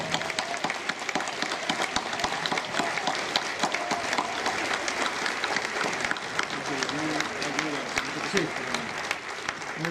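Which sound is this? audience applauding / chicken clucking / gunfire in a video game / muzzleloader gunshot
audience applauding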